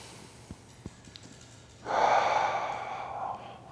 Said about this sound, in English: push down, hold it, one slow 360 breath